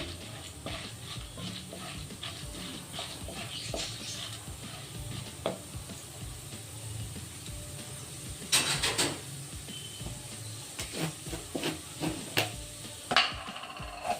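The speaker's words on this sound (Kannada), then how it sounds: "1 ಸ್ಪೂನ್ ಕಡಲೆಬೇಳೆ, ಅರ್ಧ ಸ್ಪೂನ್ ಉದ್ದಿನಬೇಳೆ ಹಾಕ್ಕೊಳ್ಳೋಣ. ಇದು ಸ್ವಲ್ಪ ಫ್ರೈ ಆಗಲಿ." Chana dal and urad dal frying in about two spoons of hot oil in a pan, a steady sizzle with occasional sharper crackles and scraping stirs, close and continuous.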